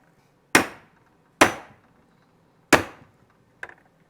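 Three sharp, separate hammer strikes punching screw holes through cardboard in a 2006 Mastercraft Maristar boat, each ringing out briefly with a short decay, followed by a softer, smaller tap.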